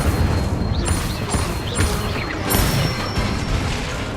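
Incendio fire spells are cast in Hogwarts Legacy, producing repeated whooshing, crackling bursts with bright magical chimes layered over a dense, rumbling, busy game soundscape.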